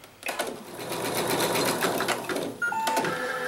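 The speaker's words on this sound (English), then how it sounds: "We're going to start the machine, and it's going to stitch that quarter inch seam for us." A sewing machine runs a quarter-inch seam on a small quilted mug rug, a close, continuous rapid whirring stitch that carries on for about three seconds with a slight change in pitch near the end.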